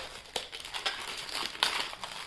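Latex balloon squeaking and crinkling as it is twisted into a pink and white Miffy rabbit, several short rubbery squeaks and rustles at close range with no talk.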